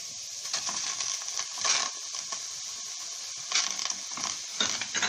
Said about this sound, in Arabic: ننزل بالبصل، وادي الجمبري اهو